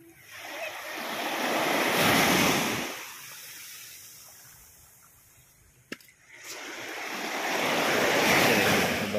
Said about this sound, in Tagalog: Biglang lumaki yung dagat.